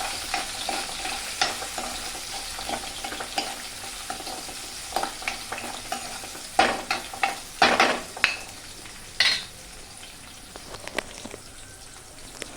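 Chopped onions and capsicum sizzle in a pan for pav bhaji, with frequent irregular scrapes and clacks of a stirring spoon that grow louder midway, close up and without speech.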